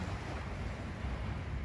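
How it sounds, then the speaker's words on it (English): Broad steady rush of water and wind along the Thames River in a city, with boats passing; continuous, fairly loud wash with gusty low rumble and no voices. "Can you hear the sound of this beautiful boats"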